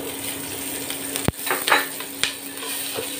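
Chili is added to hot oil in a pan, giving a steady close sizzle with a few sharp spatters and utensil clinks against the pan, with no speech.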